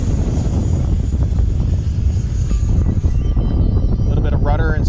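An E-flite F-16 RC ducted fan jet flies on a windy day, giving off a continuous loud rushing whine that stays fairly steady, with wind buffeting the microphone throughout.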